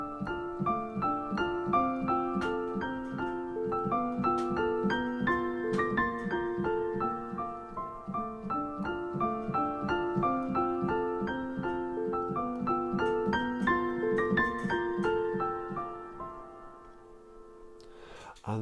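Piano plays a passage, flowing arpeggiated notes over sustained bass, moderately quiet and close, fading out near the end.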